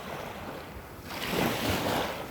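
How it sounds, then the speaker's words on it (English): Ocean waves at a Florida beach on Lover's Key wash up onto soft sand, a broad rushing hiss that swells louder midway and stays close, with some wind noise and no talking. "these waves are washing some of the softer sand"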